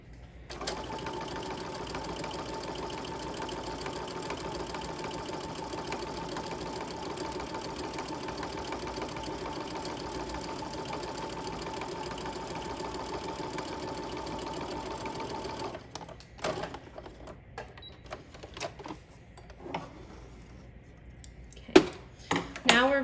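A sewing machine stitches gathering lines at 5/8 inch in a steady, fast, whirring run for about fifteen seconds, then stops, followed by quieter handling clicks and rustles of fabric and thread.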